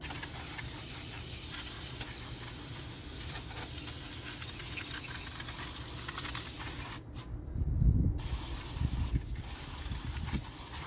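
Brake cleaner sprayed from an aerosol can onto a car brake shoe, a steady hissing blast that runs on, then breaks off briefly before resuming.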